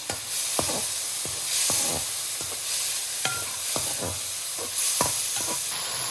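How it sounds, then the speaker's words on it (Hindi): Tomatoes and chillies stirred in a hot frying pan, steady close sizzling broken by regular scraping strokes of a spoon, about one every half second. "ये इसमें टमाटर और मिर्ची डाल दें। इनको अच्छी तरह मिक्स कर लें।"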